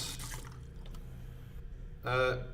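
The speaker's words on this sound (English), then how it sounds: "The faucet for the sink, I'm guessing water will come out of it if I turn the handle." A sink faucet in the prison cell of the video game Neofeud is turned on, giving a short burst of running water that stands out over a low background hum, with quieter clicks and rustle before it.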